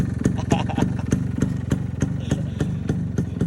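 A two-stroke motorcycle engine runs through its silencer close by, idling with a steady low throb and a rhythmic series of crisp pops and crackles, with a faint voice underneath.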